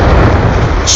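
A video game explosion bursts loudly right at the start and rumbles on for about a second, a dense booming blast with a short hiss near the end.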